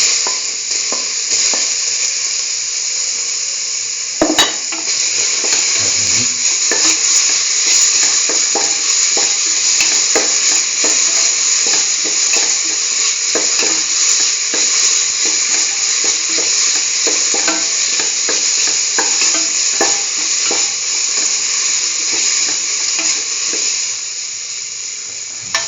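Tomato pieces sauté with potato and broccoli in a pan, a loud, continuous sizzle with occasional stirring clatter close by.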